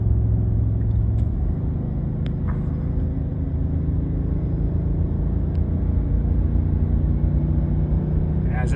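A Ford F-250 Super Duty pickup with the 6.8 gas engine climbs a steep grade in third gear, its low engine drone rumbling steadily and loudly throughout with no clear talk.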